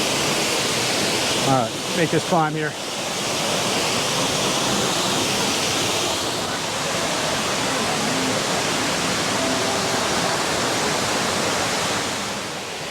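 Erie Falls in Ricketts Glen State Park roars as a steady, loud wash of falling water close by, with someone briefly speaking over it early on while climbing the trail.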